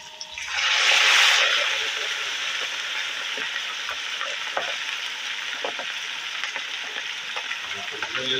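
Whole chicken for Lahori chargha frying in hot oil, a loud steady sizzle that flares up near the start and then keeps crackling evenly with small pops throughout.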